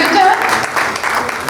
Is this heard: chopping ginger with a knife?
no